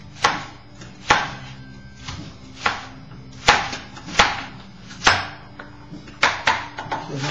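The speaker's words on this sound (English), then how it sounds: "we're going to cut the red onion, and I am going to chop it" Red onion being chopped on a board for a crock pot stew, giving a close, loud series of about a dozen sharp knife strikes at an uneven, unhurried pace with quiet pauses between.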